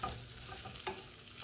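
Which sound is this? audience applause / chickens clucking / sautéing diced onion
sautéing diced onion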